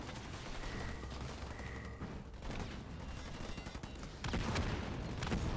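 Gunfire and rocket fire from combat tech marines in a real-time strategy game tournament match, a dense, continuous stream of rapid shots and blasts that swells louder near the end.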